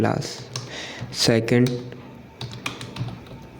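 Quick, close clicks of typing on a computer keyboard come in short bursts, with a person speaking briefly over them partway through.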